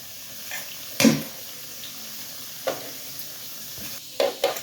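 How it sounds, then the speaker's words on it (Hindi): Homemade chicken nuggets frying in hot oil, with a soft sizzle under intermittent scraping and stirring sounds, several short bursts spaced a second or so apart, close and with no talking. "इसी तरह से हम दूसरी साइड से भी इनको फ्राई कर लेंगे प्यारा सा गोल्डन कलर आने तक।"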